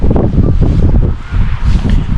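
Cold north wind blowing steadily across an outdoor fishing spot during method feeder fishing, a continuous loud rushing roar that buffets the microphone with gusts throughout.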